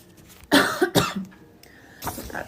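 Two sharp coughs in quick succession, close and loud, followed by a brief pause and then a softer throat-clearing sound.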